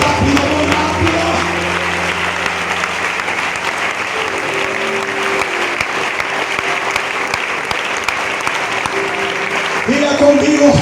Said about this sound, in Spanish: Pero ese aplauso al Dios de la gloria